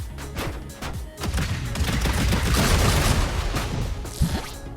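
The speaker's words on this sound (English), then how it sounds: "The flank cannon is a little powerful though" A flank cannon on a turret in Trailmakers fires in a rapid, booming volley of heavy thuds and blasts that build into a dense, loud roar, heard alone without speech.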